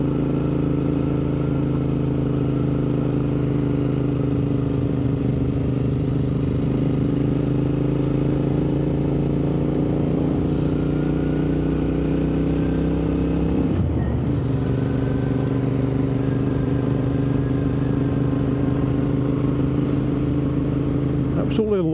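A Royal Enfield Interceptor 650 motorcycle rides along a Yorkshire back lane near Barnsley, its steady engine drone loud and continuous, dipping briefly around a gear change before settling back into an even hum.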